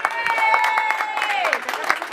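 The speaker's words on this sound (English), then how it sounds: "Let's clap for them, please." Clapping from a talent show audience for the contestants, made up of scattered claps and rough bursts with a sustained high, wavering voice-like tone or cheer riding over it.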